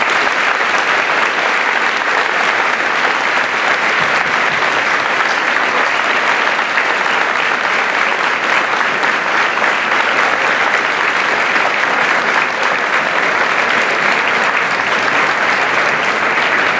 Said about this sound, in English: Please join me in a round of applause for our veterans.